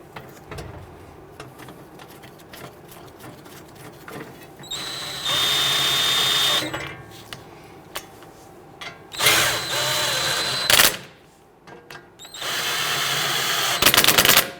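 Power tool snugging down rear brake dust shield bolts on a 2010-2019 Ford Taurus. Three loud, close bursts of whirring and rattling impact sound are spaced by quieter clanks and handling noise.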